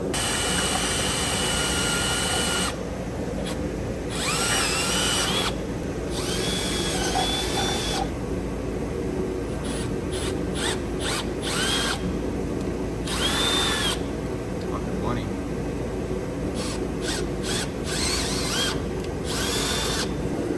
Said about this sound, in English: we have to drill a hole right here, through there, and through there